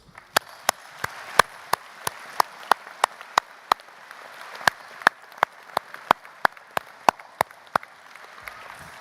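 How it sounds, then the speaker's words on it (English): Slow, evenly spaced claps ring out in a quiet hall at a university graduation ceremony, crisp and distinct at roughly two per second, sounding like a few pairs of hands rather than a full crowd. "Can I ask the congregation to please offer gratitude in the way of applause?"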